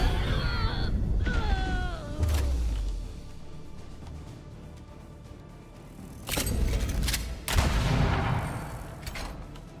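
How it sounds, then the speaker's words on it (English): Cannon fire in the fantasy strategy game Age of Wonders 4: booming blasts and crashing impacts over layered battle effects, with quieter stretches between the heavier hits. "Cannon to the face."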